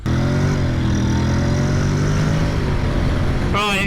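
A 2021 Honda NC750X DCT motorcycle ridden on a bumpy, fast road, its engine droning loud and steady with rising pitch and heavy wind rush, ending in a quick upward rev.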